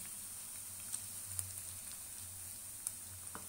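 Hot tempering poured into sweet sakkarai pongal gives a faint, steady sizzle with a few small crackles and a low hum beneath; quiet and close, no talking.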